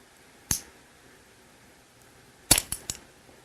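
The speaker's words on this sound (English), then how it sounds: "I'll draw an anchor, click, and then get ready to shoot." A back-tension release fires an arrow from a bow: one sharp, close snap, then a pause, then another crisp snap followed by a quick rattle of smaller clicks in a quiet setting.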